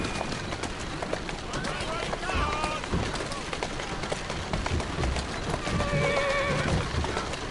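A horse in the Assassin's Creed Syndicate video game whinnies and clip-clops along, with steady hoofbeats under a voice talking to the animal, plus faint bird calls in the background.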